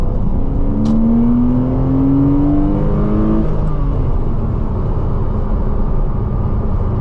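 A Porsche sports car engine hums steadily at close range with a rising whine, over a constant rumble of road and tyre noise.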